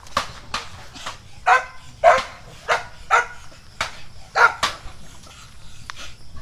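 Several dogs bark repeatedly nearby at a park, sharp loud barks coming in an irregular rhythm over a quiet background.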